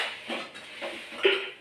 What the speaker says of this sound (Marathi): भांडी घासते